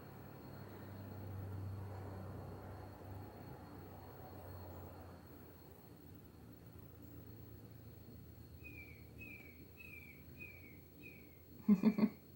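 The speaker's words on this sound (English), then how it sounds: "Might hear a seagull out there for some reason." Faint repeated bird calls ring out in a short series of descending cries from a distance, over quiet low background rumble, followed by a brief knock.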